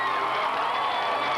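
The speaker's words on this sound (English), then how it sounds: "the crowd's hooping it up" A large crowd at the Charlotte speedway roars and cheers for a new Coca-Cola 600 pole sitter, a dense, continuous wash of distant voices and whoops.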